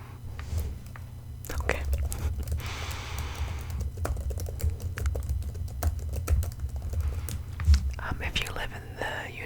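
Computer keyboard typing in an ASMR sleep-clinic roleplay: close, soft clusters of key taps in irregular bursts alongside quiet whispered speech and breathy mouth sounds.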